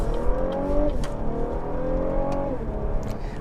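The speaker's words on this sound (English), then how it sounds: "the engine noise is not good. It sounds a lot like a V6 in a Toyota minivan" Engine drone from a car with steering-wheel paddle shifters and auto start-stop, heard from inside the cabin: a steady, fairly loud hum whose pitch climbs twice as the revs rise, with no talking.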